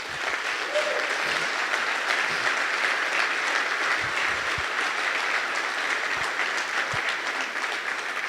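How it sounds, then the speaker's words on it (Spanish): A church congregation at a men's gathering claps together, steady dense applause that goes on for the whole stretch with a few low thumps beneath it. "denle un aplauso al Rey, por favor"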